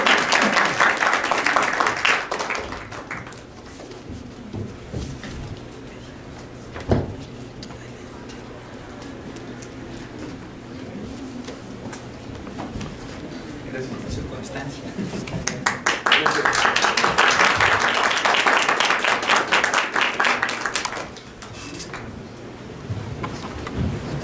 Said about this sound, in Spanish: vamos a darles un aplauso a los compañeros y su reconocimiento